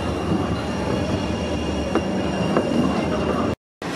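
A tram train in Sheffield rumbles along steadily nearby on the road with faint squealing wheels and a broadband rolling roar, no voices.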